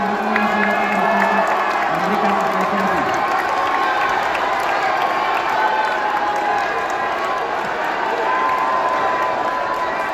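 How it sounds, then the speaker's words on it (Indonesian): Audience at an Indonesian presidential political debate bursts into sustained applause and cheering, a loud, steady crowd roar filling the hall with scattered shouts, while a voice briefly speaks over it at the start. "silakan berikan apresiasi dan aplaus dulu"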